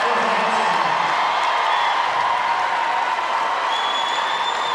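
Fans at a state boys' Class B basketball tournament game in the Barnett Center cheer and clap in a steady crowd roar, a loud, continuous wash of arena noise without pauses.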